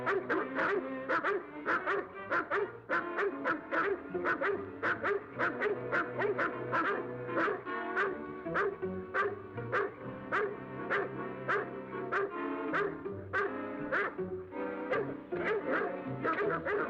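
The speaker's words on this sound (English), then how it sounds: "Hear those dogs?" A pack of dogs barks continuously in a 1939 crime film, rapid overlapping yips and bow-wows in a steady rhythm, moderately loud with a faint orchestral bed beneath.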